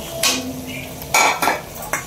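Fish dropped into hot oil in a home kitchen pan gives a few bursts of loud crackling sizzle with soft stirring and clinks between them, close by.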